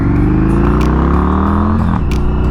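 Indian FTR motorcycle accelerating hard in second gear around 4,000 RPM, a loud, steady engine roar with rising harmonics close to the microphone, briefly dipping near the end as the rider shifts or eases off.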